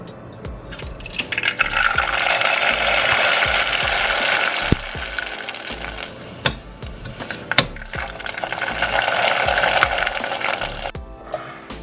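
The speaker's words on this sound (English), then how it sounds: "They actually deep fry this, and it gets puffy and nice and crispy, and it doesn't take long." Thin rice noodles deep fry in hot oil for a salad, puffing up with a loud, rushing crackle that swells, eases off and swells again, with a few sharp clicks and knocks along the way.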